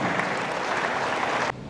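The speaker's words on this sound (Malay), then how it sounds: "nanti kita berikan tepukan yang paling gemuruh atas usaha yang dilakukan oleh pihak kerajaan" Loud, sustained applause from an audience at a Kuala Lumpur government launch event for the city's 2040 local plan, an even wash of clapping that stops abruptly near the end.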